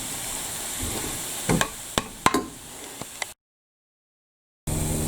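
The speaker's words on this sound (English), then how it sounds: "Just stir. Hopefully I haven't overcooked the zucchini." Zucchini frying in a pan for zucchini spaghetti, a soft steady sizzle with a few sharp utensil knocks and scrapes as it is stirred, close by, then a brief silence and a burst of louder frying.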